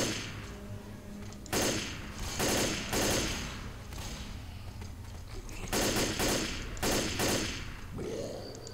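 Bursts of rapid automatic gunfire from a weapon in the video game Left 4 Dead, several loud volleys of a second or so separated by short pauses, with no talking over them.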